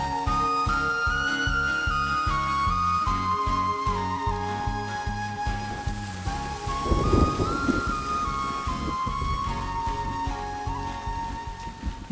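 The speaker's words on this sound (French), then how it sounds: "Maman, viens ici, il pleut" Steady rain falls with a low rumble of thunder swelling in the middle, the hiss continuous beneath tonal, sustained background music and a rhythmic pulsing beat.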